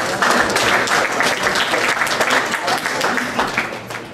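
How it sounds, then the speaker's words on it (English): Audience applause fills a high school graduation ceremony hall, dense, loud clapping from a large crowd that holds steady throughout. "Why don't we save applause for each section?"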